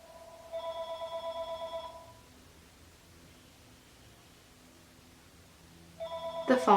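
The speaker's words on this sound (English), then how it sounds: "The phone is ringing." A telephone rings with a bright electronic tone, one longer ring burst followed by a pause and then another ring starting near the end, fairly quiet against low background hiss.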